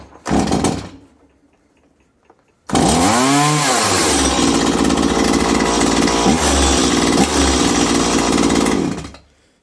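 A chainsaw engine with its choke just removed sputters briefly, falls silent, then catches and roars loud and close, revving up and holding at a steady high-pitched drone before cutting off.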